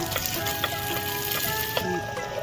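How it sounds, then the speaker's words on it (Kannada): Onion and other vegetables hit hot oil and sizzle in a bright continuous fry for a home-style tempering, with a few sharp spatters and stirring clicks close up. "ಈಗ ಎಣ್ಣೆ ಚಲೋ ಬಿಸಿ ಆಯ್ತಂದ್ರ ಅದ್ರಾಗ ಉಳ್ಳಾಗಡ್ಡಿ,"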